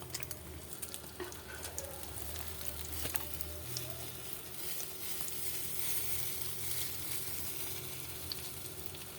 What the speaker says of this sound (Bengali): আমি অমলেটটাকে রোল করতে করতে নিয়ে আসছি।